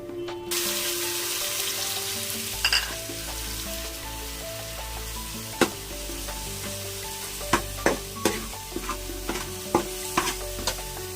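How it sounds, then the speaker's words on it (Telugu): Mustard and other tempering spices sizzle and fry in hot oil for a raw fish chutney while a spoon stirs and scrapes the pan, with steady close crackling and sharp clinks of the spoon, without any voices. "ఇప్పుడు మనం పోపు పెట్టుకున్నామని ముందుగా ఇందులో"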